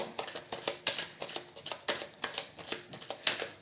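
Tarot cards are shuffled and drawn by hand, giving a steady series of crisp riffling and sliding bursts, close and fairly loud with no talking.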